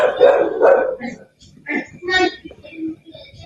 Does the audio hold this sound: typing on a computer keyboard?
no